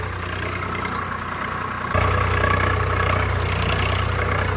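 A tractor engine idles steadily with a deep, continuous rumble that grows louder about halfway through and then holds, alone and close, with no talk.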